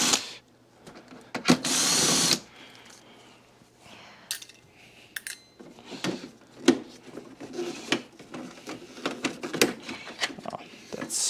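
A power driver backs screws out of a SEBO D4 vacuum cleaner. One strong whirring burst comes early, followed by quieter short driver spurts and plastic handling clatter, all close by.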